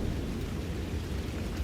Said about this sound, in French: Jour 4, aujourd'hui, c'est matin pluvieux.